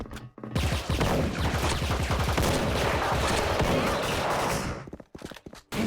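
Heavy video game gunfire roars in a dense, nearly continuous barrage of rapid shots for about four seconds, then cuts off abruptly into quieter scattered noise.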